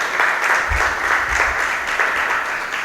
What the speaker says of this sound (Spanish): Le da un aplauso a Él en esta noche.